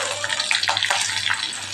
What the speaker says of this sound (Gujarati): આપણે જે મરચાંના ટુકડા બચાવેલા એ પણ ઉમેરી દઈશું વઘારમાં